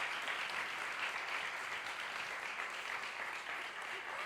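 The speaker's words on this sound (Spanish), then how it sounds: "Un aplauso a todos y a vosotros por venir." Audience applause at a school mock parliament event, a steady, even wash of many hands clapping that holds for several seconds without a break.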